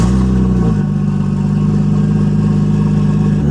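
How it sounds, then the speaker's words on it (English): A Nissan R32 Skyline's engine drones loudly through an exhaust sitting just beneath the cabin floor on a first test drive. The rumble is steady with a slight pitch shift as the revs settle. "The exhaust is very loud because it's basically right beneath Alyssa's feet"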